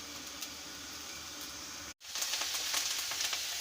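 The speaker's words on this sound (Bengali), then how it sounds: "এবারে একেতে দিয়ে দেবো রসুনটা ভালো করে ভেজে নেব।" Garlic fries with already browned onions in a kadai, giving a steady, close hiss of sizzling oil that cuts out for an instant midway, then returns slightly louder with faint stirring scrapes.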